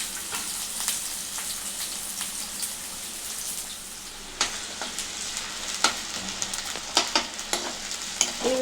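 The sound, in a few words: frying green chillies and onions in a pan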